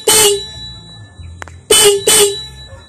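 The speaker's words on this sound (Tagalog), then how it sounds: "Yung tunog ng kanyang busina." A disc horn wired through an automotive relay on a Yamaha Mio Gear 125 motorcycle blares loud and close: one short blast, a pause, then two quick blasts in succession.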